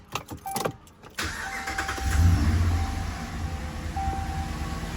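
A 2013 Ram 1500 pickup truck engine with a Volant Powercore intake cranks briefly and catches, then settles into a steady low idle rumble close by, hood up.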